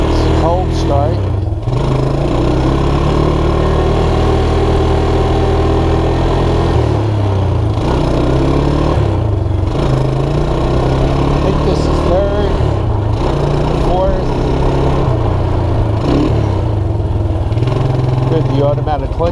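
A Suzuki Quadrunner LT230E quad runs on choke after a cold start, its single-cylinder engine chugging loud and close with uneven revs and small throttle blips throughout.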